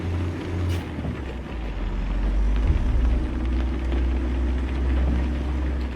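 Simulated truck engine running steadily in American Truck Simulator, a Z-Mods engine sound on the road toward Lewistown, Montana: a continuous low rumble with a brief throttle swell midway, no talk.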